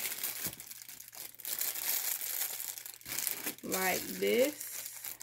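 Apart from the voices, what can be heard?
folding jewelry packaging flat, crinkling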